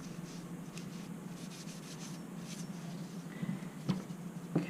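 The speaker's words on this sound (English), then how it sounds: "I'm also wiping some of those stains on the hammer itself." A cloth rubs softly against the hammer of a SIG Sauer 1911 pistol, a faint, steady scrubbing with a couple of small taps near the end.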